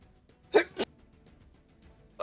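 Two quick sneezes in a row, short and sharp, followed by a brief third burst of sound in an otherwise quiet room.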